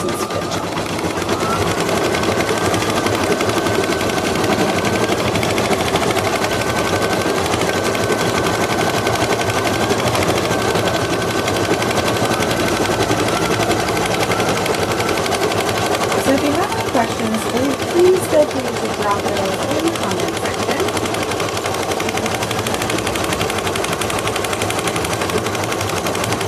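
An embroidery machine runs a continuous, fast, even stitching chatter while sewing a placement stitch on felt, steady and close throughout with no pauses.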